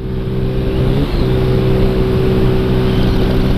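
A 125cc motorcycle revs loud and close, holding the throttle open while shifting gears, with a brief dip in engine pitch around one second before the steady drone resumes.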